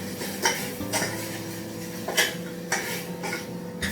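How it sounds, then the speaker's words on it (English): A utensil stirs congee with added vegetables such as cauliflower, broccoli and cabbage in a pot, making several soft scraping clinks and knocks against the metal at uneven intervals over a faint simmer. "And we give it a good stir"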